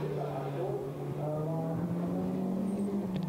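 An Audi GT4 race car drives at the Nurburgring, its engine giving a steady, droning hum with a sustained tone under faint commentary-like talk.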